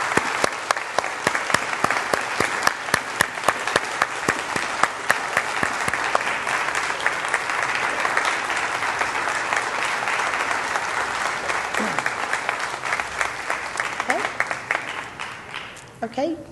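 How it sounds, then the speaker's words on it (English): An audience at a Nurses Week ceremony gives a sustained round of applause for the nurse nominees, with dense clapping that holds for about fifteen seconds and tapers off at the end. "Let's have a round of applause for all of our nominees."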